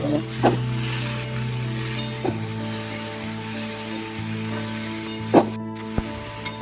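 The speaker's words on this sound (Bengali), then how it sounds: "পেঁপেটা দিয়ে তো আমি তো ভালোভাবে নাড়াচাড়া করছি" Boiled papaya being stirred in a pan, with scraping utensil strokes and soft sizzling spaced out at irregular intervals over a faint steady hiss, no talking.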